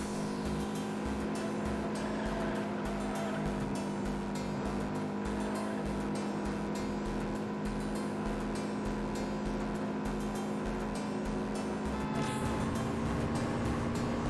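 A Ford Focus engine races in the driving game Juiced, a continuous loud, droning engine roar held at high revs throughout, steady with slight pitch shifts and no talking.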